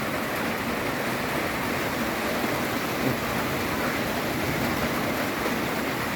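Heavy rain from a storm pours down in a dense, unbroken roar, steady and close throughout with no voices.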